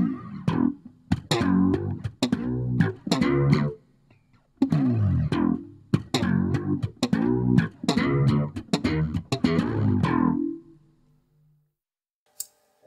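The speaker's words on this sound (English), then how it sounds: "Now I'll be using the Bass 360 sound with a little bit of reverb and some chorus." A bass guitar played through a Roland Micro Cube Bass RX amp plays a run of plucked notes with a chorused, reverberant tone, pausing briefly midway and then ringing out into quiet.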